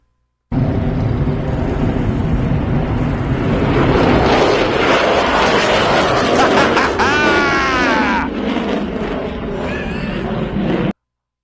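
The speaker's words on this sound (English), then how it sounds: "this is an F-35 taking off, I believe, at our Joint Reserve Base in Fort Worth" An F-35 fighter jet takes off at a joint reserve base in Fort Worth, producing a loud, sustained roaring blast with wind buffeting, swelling then holding steady before cutting off.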